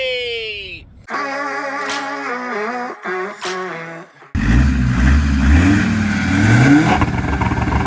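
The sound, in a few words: Defender TD5 engine revving through dual stainless exhaust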